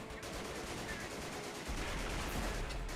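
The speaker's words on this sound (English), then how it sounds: "Oh shit, mortar fire." Mortar fire in a video game, a muffled, rumbling barrage that swells into a heavier, deeper thud partway through, heard faintly without any voices.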